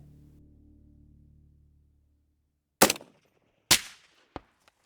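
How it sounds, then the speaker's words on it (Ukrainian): Two loud, sharp cracks of a NATO rifle round striking a Russian armor plate, about a second apart, then a shorter, smaller crack, each ending quickly, after a low hum fades out into silence. "Добре, давай тоді ще постріл."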